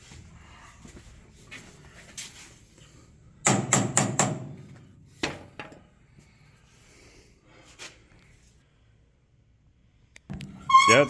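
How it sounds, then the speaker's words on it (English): A hammer strikes the track of an old Caterpillar Twenty Two tractor in a quick burst of four sharp metallic blows, followed by a couple of scattered lighter knocks in a quiet setting. "let's see if hitting it with a hammer works"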